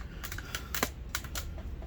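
Rapid clattering keystrokes on the keyboard of a 17-inch Chromebook laptop with a number pad, close and fairly loud, in quick irregular bursts with no talking.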